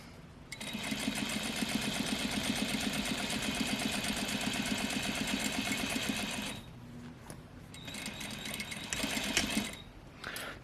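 Sewing machine stitching down a tailored placket, a close, rapid rhythmic whir that runs steadily for about six seconds, pauses, then resumes in a shorter burst before stopping.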